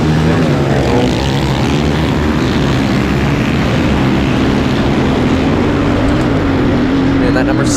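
Youth open-class pit bike motorcycles ridden by 11-year-olds launch off the start at a motocross track, a loud continuous engine roar with layered whining tones throughout, under commentary.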